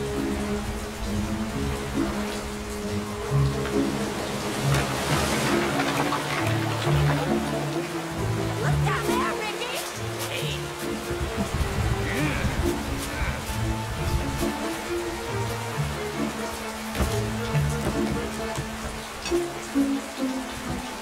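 Steady, heavy rainfall hisses throughout, with a low rumble and scattered drips beneath, continuous and close.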